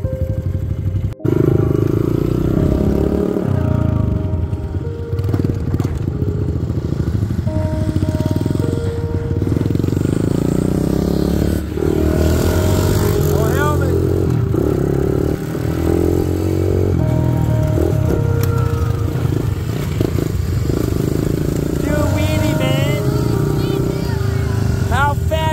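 A motorcycle running steadily throughout a ride, its engine droning loud and close with shifting pitch, while people talk and call out over it.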